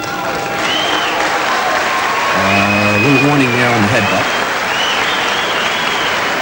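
A Las Vegas kickboxing crowd claps and cheers in a steady roar of applause while a commentator talks over it near the middle.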